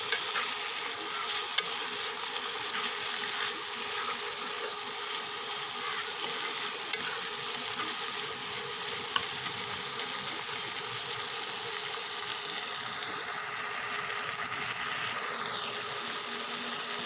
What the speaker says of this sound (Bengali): এখন আমি এটা ভেজে নেব একটু।